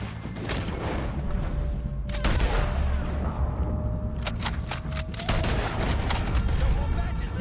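Gunfire against O'Driscoll gang members in Red Dead Redemption, with repeated loud shots and booming bursts over a dense game soundscape, while music and voices run underneath.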